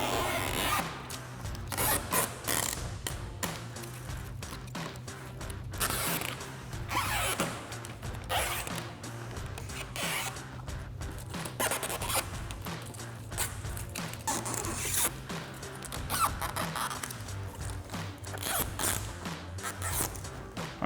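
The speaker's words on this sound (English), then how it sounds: "and start peeling the red backing off." Red adhesive backing peeled off an Aeroskin hood protector on a 2020-2024 Silverado 2500, heard as faint, crackly tearing and rubbing that comes in irregular bursts over about twenty seconds.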